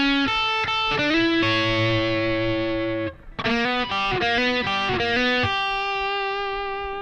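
An electric guitar with a distorted, effects-laden tone plays the second-chorus solo from a song. Long held bends give way to quick runs of notes, loud and up front with no talking.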